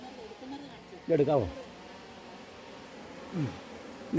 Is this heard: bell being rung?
no